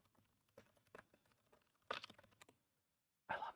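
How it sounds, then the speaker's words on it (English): Computer keyboard typing, close and quiet: irregular soft key clicks followed by a few louder clustered taps, with brief pauses between bursts. "I love the sound of the keyboard"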